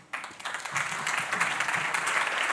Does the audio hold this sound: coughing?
no